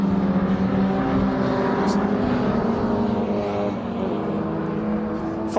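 MG Car Club race cars on the Cooper straight at Brands Hatch, engines droning steadily with layered tonal whine and a car passing near the end, while a commentator talks over the engine noise throughout.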